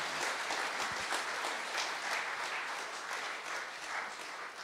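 A crowd gives sustained, dense applause to welcome a guest onto the stage at a church gathering, steady and full throughout with no pauses.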